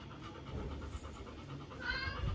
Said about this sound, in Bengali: হাঁপাচ্ছে।